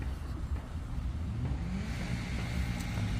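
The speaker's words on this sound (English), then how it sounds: "There's just boy races all over, flying around this car park, doing donuts, pulling skid marks." Cars tear around a supermarket car park at night, doing donuts and skids; a steady, fairly loud engine drone with revving and a rising pitch sweep as a car accelerates, continuous throughout.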